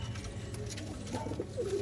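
Pigeons in a loft coo softly and close by, with low, rolling calls over a steady background hum and faint rustling.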